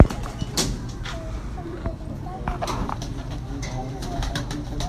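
Soft cooing from a Memsa breed pigeon murmurs close by over a low, steady background hum, with a few faint clicks and rustles scattered through.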